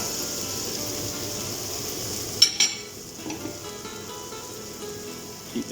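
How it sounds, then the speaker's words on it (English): Onions, peppers and garlic frying in a pan, a steady hiss of sizzling throughout with a few sharp clinks of a utensil against the pan partway through. "So just sweat your onions down for a minute, then add in your peppers and your garlic."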